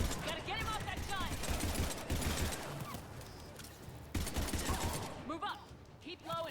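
Rapid bursts of mounted gunfire in the Mass Effect 3 video game, repeated rattling shots in clusters amid battle noise, with voices calling out over the firing.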